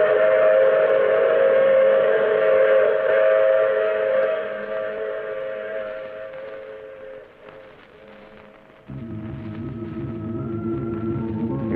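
A train sound effect from an old radio mystery drama: a loud, sustained whistle blast over rolling rail noise that dies down, then gives way to a deeper, heavier chugging rumble, with no voices.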